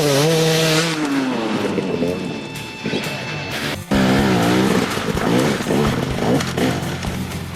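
An enduro motorcycle accelerates hard out of a berm, its engine rising in a loud revving whine near the mic, dropping briefly, then climbing again with gritty tire and chassis noise and no talk.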